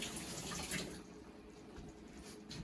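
Running tap water splashes steadily as a jalapeno pepper is rinsed under it in a home kitchen, a close, continuous hiss with slight variations, no talking.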